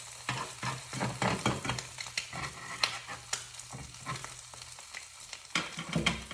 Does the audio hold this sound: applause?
no